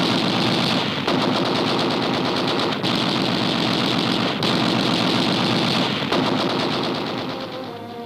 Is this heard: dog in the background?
no